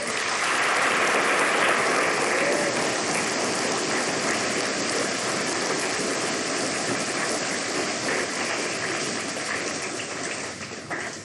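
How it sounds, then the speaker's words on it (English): A large crowd at a high school graduation ceremony gives a sustained round of applause, a dense rain-like wash of clapping that stays steady for over ten seconds and fades slightly at the end. "Let's give another round of applause to those who donated so much money to these scholarships."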